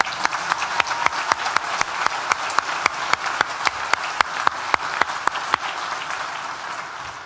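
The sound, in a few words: audience applause at a graduation ceremony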